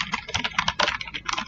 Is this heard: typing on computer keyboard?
yes